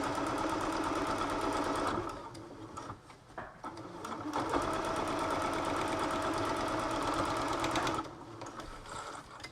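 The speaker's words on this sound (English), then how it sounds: "And then put the foot back down and keep sewing." A sewing machine runs steadily while stitching a face mask seam, a close, continuous mechanical whir that pauses briefly partway through and then resumes, with a slightly quieter stretch near the end.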